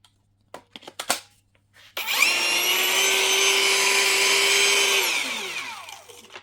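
After a few clicks and knocks, a high-pitched whirring motor of a cordless angle grinder on a Stromo 4.0Ah battery spins up, runs steadily for a few seconds, then winds down with a falling whine.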